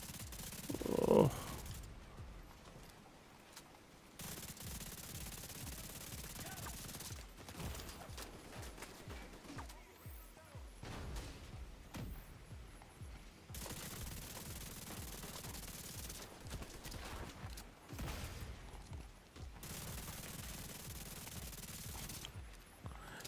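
Sustained automatic gunfire in The Division 2, steady streams of shots in long stretches broken by brief pauses, fairly faint and distant-sounding against the game's background.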